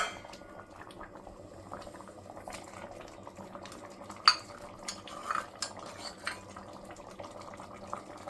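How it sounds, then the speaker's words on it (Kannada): Radish and lentil sambar bubbling in a pot on the stove, a soft steady simmer with faint clinks of utensils and a couple of louder knocks, close by with no talking. "ಇವಾಗ ಸಾರು ಕುದೀತಾ ಇದೆ"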